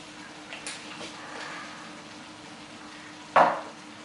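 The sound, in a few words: pork neck with garlic, herbs and pepper stirred in a kazan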